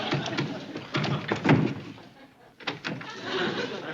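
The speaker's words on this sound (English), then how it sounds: "The door's stuck, Sergeant." Thumps and bangs from a stuck door being forced, heavy knocks in uneven bursts with short gaps, mixed with background voices and a rowdy crowd.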